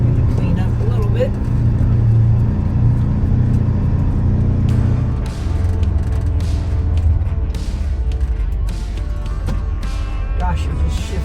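A Polaris Ranger Trailboss 1000XP UTV fitted with an aftermarket clutch runs while plowing snow, its engine droning and rumbling up close, with shifts and revs changing the tone, and someone talks over it.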